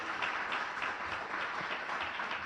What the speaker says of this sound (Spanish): Bueno, pues le damos un aplauso al Señor también.